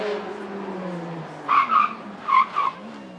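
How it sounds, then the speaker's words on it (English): BMW F30 sedan braking hard on a race track, engine note winding down before four sharp tire squeals in two quick pairs, loud and close. "Hard on the brakes, coming to a stop, bang in the center."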